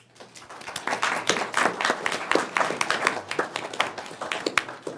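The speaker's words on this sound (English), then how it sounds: "You have to clap quietly." Clapping from a small audience at a Riverton, Wyoming regular city council meeting, individual hand claps clearly distinct and scattered, building up then continuing unevenly before thinning out.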